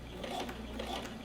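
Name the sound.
sewing machine stitching a lapped zipper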